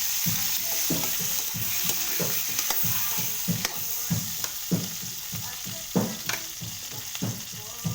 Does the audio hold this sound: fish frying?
yes